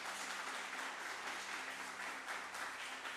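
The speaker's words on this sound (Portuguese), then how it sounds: "Se é para ele, bata mais forte." A church congregation claps hands for the name of Jesus during a sermon, a steady dense wash of applause filling the room, even and sustained from start to finish with a faint low hum beneath.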